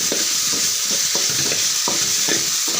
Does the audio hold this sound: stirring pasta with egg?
yes